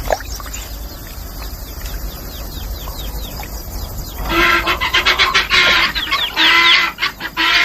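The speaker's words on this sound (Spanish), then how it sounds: "Durante todo el día, grupos de aves bordean las aguas de la charca." Birds gather along the edge of a waterhole, faint chirps at first, then a loud burst of overlapping clucking, rattling calls that rise and fall close by.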